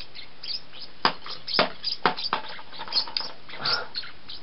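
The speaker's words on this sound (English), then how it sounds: "This bird's crazy, man." An excitable bird calls in a run of sharp, bright chirps and short trills, some louder than others, scattered unevenly over a few seconds with no voices.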